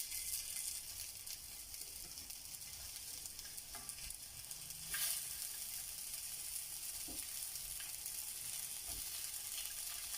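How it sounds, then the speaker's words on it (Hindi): Beef seekh kebabs frying in hot oil on a tawa griddle over low flame, a steady close sizzle with a few faint scrapes and clicks and no talking. "ऑयल बहुत अच्छे से गर्म हो जाए तो फिर हम इसमें अपने कबाब डालेंगे जी।"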